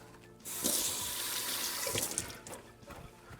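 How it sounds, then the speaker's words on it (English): Hands are washed under a running kitchen tap, a steady hiss of water splashing into a sink that starts abruptly, holds for a few seconds, then tapers off, close and fairly loud. "Just quickly wash your hands."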